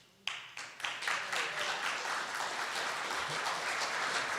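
An audience at a Rainbow PUSH Coalition Haitian Independence Day event starts clapping with a few sharp claps, then swells into sustained, moderately distant applause.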